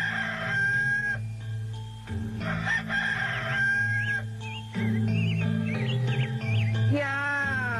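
A rooster crows several times in close succession, loud and near, its drawn-out calls ringing clearly over a busy background of other clucking fowl, with a final rising crow at the end.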